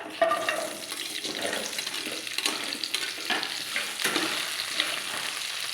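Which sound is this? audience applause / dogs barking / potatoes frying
potatoes frying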